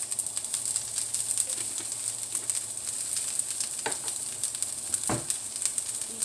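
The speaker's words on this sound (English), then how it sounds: "Now I don't want to cook these onions too soft." Onions with seasoning sautéing in a pan give a steady, close sizzle throughout, broken by a few sharp scrapes from stirring, with no talking.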